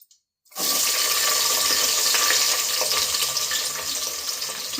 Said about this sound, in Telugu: ఇక్కడైతే తాలింపు కూడా పెట్టేసుకున్నాను, వేయాలి ఉల్లిపాయలు అయితే.